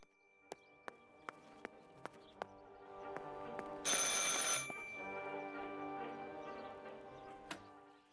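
A telephone rings in the video game Martha Is Dead, a series of sharp, evenly spaced bell strikes followed by a louder, bright burst of ringing and further tones against a faint hum, with no one speaking.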